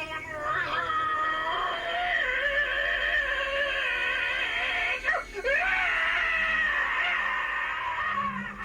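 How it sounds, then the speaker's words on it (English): A man screams and wails loudly during a hypnotic regression session captured on a home video camera, sustained anguished howling with a brief break midway before resuming just as intense. "He was literally screaming so loud that he could not hear me give him suggestions to ease the pain."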